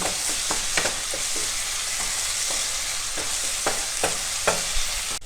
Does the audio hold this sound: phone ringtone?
no